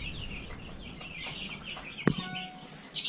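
Hens in a hen house cluck softly and steadily at close range, with a brief sharp knock partway through and a higher squawk near the end.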